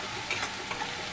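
Masala fries in hot oil for chicken kosha, a quiet, steady sizzle with a few faint crackles and pops over about a second, and no voices.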